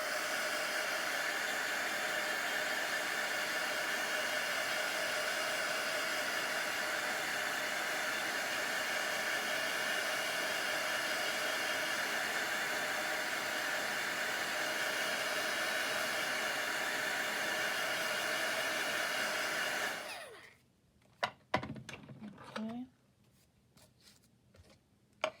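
A heat tool blows a steady, loud, even hiss for about twenty seconds while drying Mod Podge on a craft project, then cuts off, followed by a few faint handling taps and rustles.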